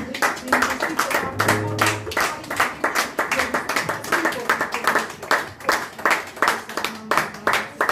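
A congregation at a French-language church worship service claps and acclaims Jesus, steady rhythmic clapping running throughout with voices and music mixed underneath.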